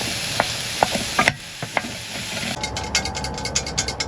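Mushrooms and onions fry in a pan at a camp, a steady soft sizzle broken by sharp scraping and clicking as a utensil stirs, then quicker rhythmic ticks near the end, no talk.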